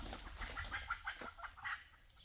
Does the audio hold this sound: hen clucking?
yes